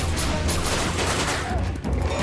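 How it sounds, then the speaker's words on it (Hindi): Gunfire from an animated G.I. Joe Renegades episode, a loud, dense burst of rapid shots that rattles on almost continuously for about two seconds, with a brief dip near the end. "Open fire."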